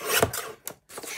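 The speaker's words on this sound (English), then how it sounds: "trim this cardstock so that it's the right width to go through the machine" Cardstock being cut on a paper trimmer: a couple of short scraping, rasping strokes close up, separated by a brief silent pause.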